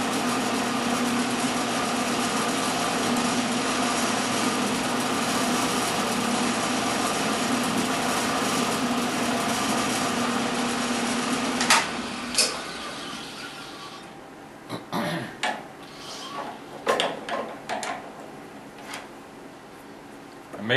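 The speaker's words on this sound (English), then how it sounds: "So we're going to use my center drill and mark" A milling machine running with a center drill marking a hole position, a steady high-pitched motor whine that cuts off partway through, followed by scattered clicks and knocks.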